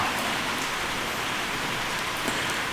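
Heavy rain comes down hard in a dense, steady hiss. It drums on nearby surfaces throughout, with no voices.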